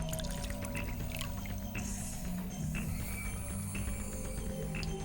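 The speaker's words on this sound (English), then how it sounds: "need to pour the ethanol into the beaker." Ethanol being poured into a beaker in the video game Virtue's Last Reward, a steady liquid pour with small splashy accents over a constant background hum, fairly loud.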